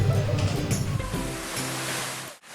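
Curug Sialang, a cliffside waterfall in Lahat, Indonesia, roars as a broad, steady rushing wash of falling water, close and loud, filling the scene without letup before dipping away briefly at the end.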